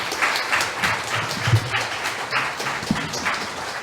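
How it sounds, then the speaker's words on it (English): Audience applause for three writers at a literary event, a crowd clapping steadily with a brisk, even patter of hands and a few louder individual claps standing out, sustained at moderate strength throughout. "can I ask you to give a big round of applause to our three writers?"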